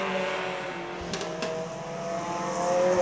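Junior sedan race cars at the New Star Junior Sedans championship run down the front straight, engines droning steadily and building slightly louder toward the end, with no talk over them.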